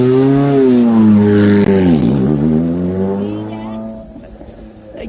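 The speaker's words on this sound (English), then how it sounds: "but listening to the engine" A rally car's engine screams past loud and close on stage SS4 of Rally Hungary 2021, its pitch sliding down as it passes, then fading into the distance.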